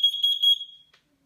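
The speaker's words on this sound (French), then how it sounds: "Il s'agit seulement d'un test. Test de la fumée. Test du monoxyde de carbone." A Nest Protect smoke and carbon monoxide alarm sounding its test signal indoors in a dining room: a loud, shrill electronic tone pulsing a few times, then stopping abruptly into silence.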